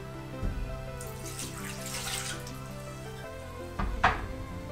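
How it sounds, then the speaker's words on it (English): Coconut water poured into a blender jug to start a green smoothie, a steady splashing, gurgling pour close by that tapers off, followed by a brief knock of the container. "first you'll want to add in your coconut water"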